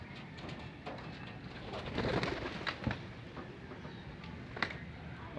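Soft, low racing pigeon coos repeat intermittently over a faint rainy background hiss, fairly distant, with no talking.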